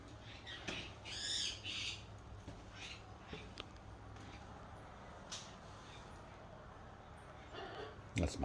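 A pet parrot gives several loud, harsh squawks early, then quieter calls and rustling, ending with a few sharp knocks nearby.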